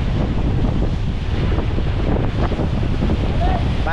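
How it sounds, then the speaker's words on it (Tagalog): Strong wind gusting around 40 on the open Pacific Ocean with 6 to 7 foot waves, heard from a boat as a steady, loud broadband roar of wind buffeting the microphone over surging water. "Bali nasa 40 ang bugso ng hangin ngayon, at ang ating alon ay nasa 6 to 7 feet."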